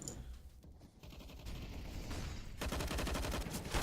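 Gunfire in Counter-Strike: Global Offensive during a competitive match on the Mirage map, starting as scattered shots and building into a dense, loud stretch of rapid automatic fire in the second half.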